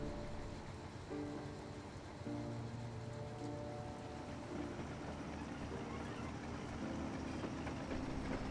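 Train rolling along the South Wales main line beneath a brewery, a faint, steady rumble with soft clattering and shifting tonal hums, distant and continuous, with no voices.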